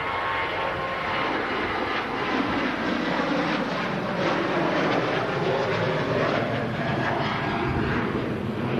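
An Airbus A350 airliner vacating the runway produces a steady, loud jet engine roar that holds for several seconds with a broad rushing wash, heard alone without talk.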